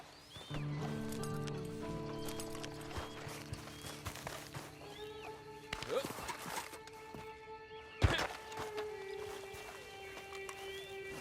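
Horse hooves clip-clop in Red Dead Redemption 2 amid music and other game sounds, with a horse neighing and a voice speaking at times.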